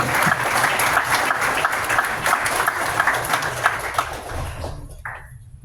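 An audience at a June 2025 tech meetup breaks into sustained, dense clapping that holds steady for several seconds before tapering off into quiet near the end.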